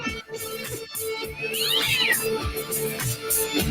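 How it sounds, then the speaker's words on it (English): Cats meow and caterwaul in a fight, with wavering yowls rising into sharp high screeches at mid-clip over a dense, busy background; the cries are loud and close. "Some would say it was an epic cat fight."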